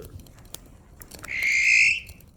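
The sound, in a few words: odd call at night in the woods, thought to be an owl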